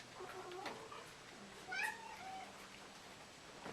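Cats meow in a shared cattery room housing about fifty cats, with several separate calls of varying pitch, moderately near, over quiet room ambience.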